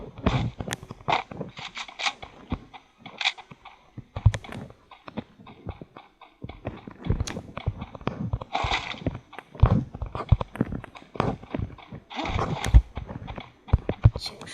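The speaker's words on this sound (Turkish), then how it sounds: "ayak sesleri" Footsteps in the shooter game Free Fire, quick scuffing steps repeating in uneven bursts through the clip, moderately close and alone without talk.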